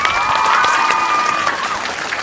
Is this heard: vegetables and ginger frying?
no